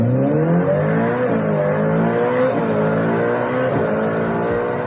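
Ferrari SF90 Spider hybrid hypercar engine revving hard, a loud, sustained high-pitched metallic wail with rising and falling harmonics as the revs climb in repeated surges, close and alone.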